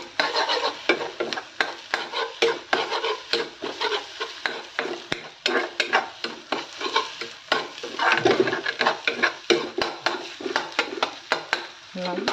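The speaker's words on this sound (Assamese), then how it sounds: "এইফালে মই ইয়াতে হালধি নিমখ দি দিলোঁ সেইখিনি গুড়াকৈ ভাজি" Food being stirred and fried with turmeric and salt in a pan on a home kitchen stove, with rapid repeated scraping strokes of a spatula over a soft sizzle that carries on throughout.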